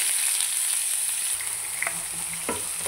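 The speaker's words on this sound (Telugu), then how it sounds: "ఆనియన్స్ పచ్చిమిర్చి వేసుకున్నానండి. అవి కాసేపు మగ్గనివ్వాలి." Sliced onions and green chillies fry in oil in a pan, a continuous close hiss of sizzling with a couple of light clinks from stirring.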